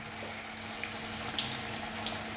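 Tofu fries in oil in a pan, giving a steady close sizzle with scattered small pops and crackles.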